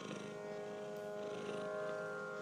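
A kitten purrs softly and steadily close by, a continuous low rumbling hum with no break across the whole stretch and no voices.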